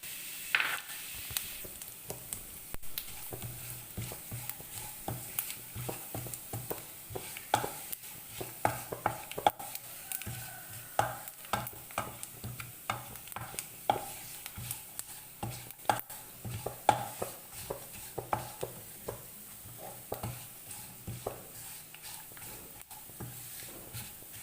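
Coconut pieces and sesame seeds roast in a pan, giving quiet dry scraping stirs with scattered light crackles and pops spread evenly through the whole stretch, close and soft.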